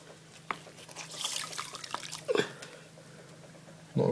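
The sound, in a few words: water draining from Bosch washing machine service flap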